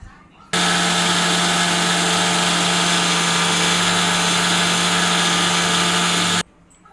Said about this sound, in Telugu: ఇలా ఫైన్ పౌడర్ లాగా మిక్సీ పట్టుకోవాలి